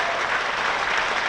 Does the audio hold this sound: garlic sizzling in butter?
no